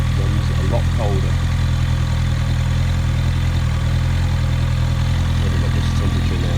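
A Honda CBR1100XX Blackbird motorcycle engine idles steadily throughout, a continuous low rumble close by, with a few faint speech-like sounds over it.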